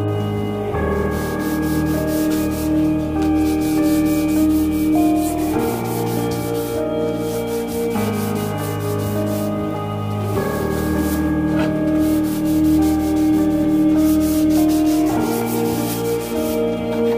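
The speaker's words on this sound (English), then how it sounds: "I'm going to do a little bit more scuffing, and along this area as well" Continuous scuffing of a car wing extension during paint prep, a steady abrasive rubbing that continues unbroken, heard alongside layered tonal background music.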